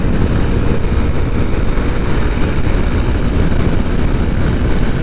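A vehicle engine held at full throttle on a highway run from Thoothukudi to Madurai: a loud, steady, droning roar with heavy wind rush that goes on without a break.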